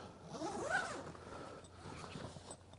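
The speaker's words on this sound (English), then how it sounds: "You zip the backrest zippers down." A zipper is drawn down along the backrest of a goose hunting layout blind, one long rasping pull that slows and rises in pitch, followed by quieter fabric rustle.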